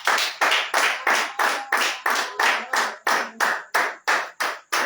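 A church congregation at a home prayer cell in Gagnoa claps hands together in a steady, loud rhythm of about a dozen sharp claps, roughly two or three per second, with no voices over it.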